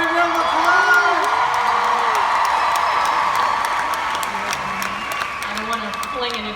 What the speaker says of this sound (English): everyone, give a big round of applause!